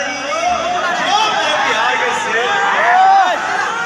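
A large crowd at Pawan Singh's Holi Milan stage event in Patna, with loud, continuous chatter, whoops and shouts packed closely together, and music-like tones rising through the noise.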